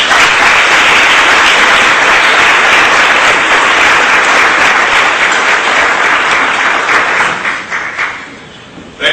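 A gala awards audience applauds loudly and continuously, a dense wash of clapping that thins and fades near the end.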